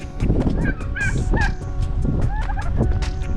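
Farm duck calling loudly at close range, a run of honking, squawking notes with some overlapping bird noise and rustling underneath, with no talk.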